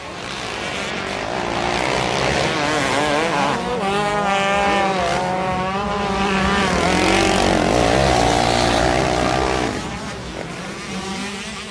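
Motocross motorcycles, including a Husaberg, racing on a muddy circuit at the 1999 Motocross of Nations in Indaiatuba, engines rising and falling in pitch as bikes rev and pass, loud and layered over crowd noise.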